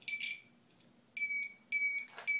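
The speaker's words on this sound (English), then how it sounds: "So now you hear the beeping going off. Slower." An electronic beeper driven by a solar-powered 555 timer circuit sounds in steady, evenly spaced tones, each a sustained high-pitched beep with short gaps between, close and clear.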